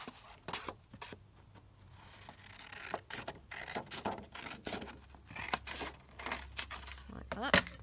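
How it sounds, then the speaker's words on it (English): Scissors snip through a paper piece to trim it to width, with several short crisp cuts and light paper handling in a quiet indoor craft setting; a voice speaks softly at times. "So I'll just cut that down."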